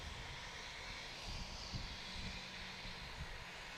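A small STOL airplane takes off during a short takeoff and landing competition at Ontario Municipal Airport in Oregon, its engine producing a steady, moderately distant drone throughout with no talking.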